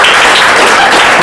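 A classroom of students gives a short burst of loud, dense applause for a classmate, steady clapping with no pauses.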